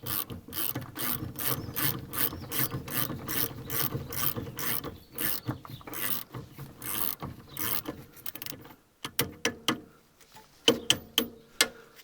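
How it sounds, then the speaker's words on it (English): A socket ratchet tightens a wheel hub and stud, clicking in rapid steady bursts, then pausing and giving a few louder separate clicks near the end, close and clear with no talking. "Tighten the hub up, tighten the stud up a bit even."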